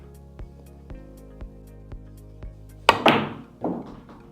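A cue stick strikes the cue ball hard on a rail-first pool shot, one loud crack followed by a ball thumping the cushion, over a faint steady ticking hum.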